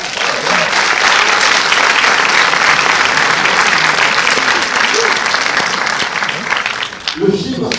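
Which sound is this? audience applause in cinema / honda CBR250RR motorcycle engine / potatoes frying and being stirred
audience applause in cinema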